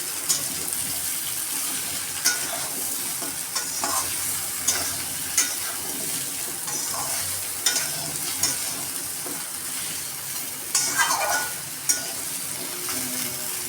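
Sweet-sour-spicy mango pickle (aam ka achar) cooks in a pan under steady sizzling, with scattered scraping knocks of a spoon stirring it near and clear, and no voices.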